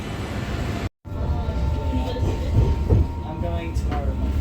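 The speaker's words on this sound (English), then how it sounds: "I'm just going to hop on this tram here" Steady low rumble of a Sydney tram rolling along rails, with faint clicks and rattles, and a brief cut in the sound near the start.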